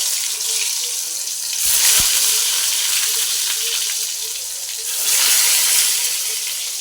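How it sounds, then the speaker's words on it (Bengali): Vegetables for a lentil meal frying in a smoking-hot wok, a loud steady sizzle that swells in two bursts as pieces drop into the oil, no voices. "এবার এক এক করে সব ভাজাগুলো ছেড়ে দেবো।"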